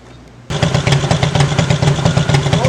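A motorcycle engine idles steadily after a faint quiet start, in stationary stop-and-go conditions with an aftermarket oil cooler fitted, giving an even, close, continuous low throb with regular pulsing and no speech.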